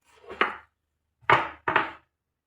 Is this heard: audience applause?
no